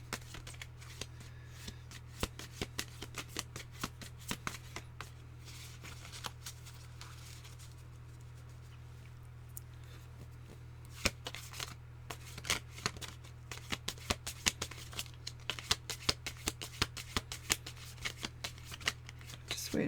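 A deck of tarot cards is shuffled in repeated soft riffling bursts of flicking card edges over a steady low hum, close and fairly quiet.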